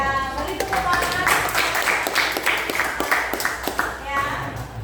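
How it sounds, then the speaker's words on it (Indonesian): A class of children clapping their hands together in a Hindu religious education lesson, steady scattered claps mixed with children's voices and chatter throughout. "Ya, mari tepuk tangan."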